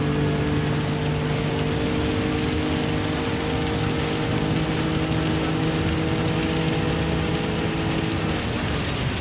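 Steady rain hisses during a wet race in Gran Turismo 7, a continuous, loud wash of spray and drops mixed with the drone of a car engine, unbroken throughout.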